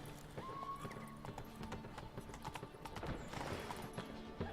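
Hooves clip-clop in a steady walking rhythm as a horse is ridden in The Witcher 3, moderately close and fairly quiet, with a brief whinny near the start.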